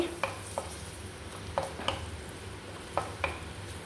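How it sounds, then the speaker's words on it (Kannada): Chopped garlic fries quietly in coconut oil with a low, continuous sizzle, punctuated by a few sharp taps of a spatula against the pan as it is stirred, with no speech. "ಇದನ್ನು ಸ್ವಲ್ಪ ಫ್ರೈ ಮಾಡ್ಕೊಳ್ಬೇಕು ಚೆಂದ ಎಣ್ಣೆಯಲ್ಲಿ."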